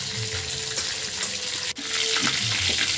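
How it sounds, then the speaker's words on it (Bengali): Potatoes frying in hot oil in a pan while making a fish curry with pointed gourd, giving a dense, continuous sizzle with light clatter, close and fairly loud throughout. "একই তেলে আবারও আলুগুলো ভেজে নেব।"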